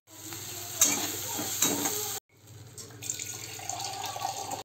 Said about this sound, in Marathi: असं गरम पाणी ओतायचं आणि ह्याला चांगली उकळी फुटू द्यायची